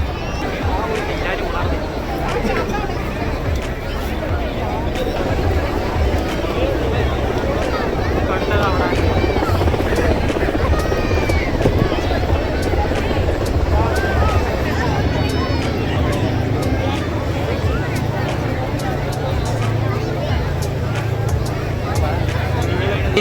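A helicopter flies over the crowded Marina Beach air show, its rotor chop blended into a dense, constant wash of crowd hubbub and wind noise, with people chattering throughout.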